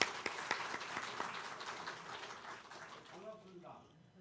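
Applause from a church congregation at a Sunday worship service, a dense burst of clapping that starts loud and gradually thins out over a few seconds, fading to scattered claps as a voice begins.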